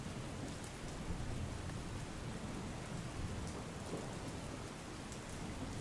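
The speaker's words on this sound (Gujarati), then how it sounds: "ઉપલેટા શહેર અને ગ્રામ્ય વિસ્તારમાં ધોધમાર વરસાદ પડ્યો" Heavy rain pours down steadily over Upleta, Gujarat, in a dense, even hiss, loud and close, with no voices and no break.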